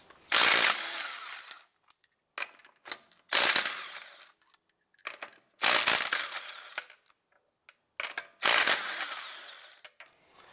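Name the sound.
power tool removing car wheel lug nuts with 19mm socket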